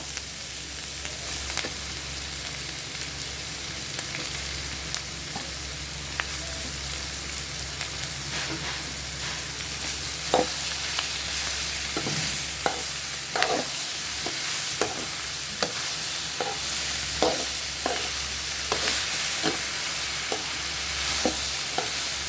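Tomatoes are stir-fried in a pan for banana stem chutney: a constant close sizzle runs the whole time, broken by repeated sharp scraping clicks of the stirring spoon that grow more frequent toward the end, with no voices.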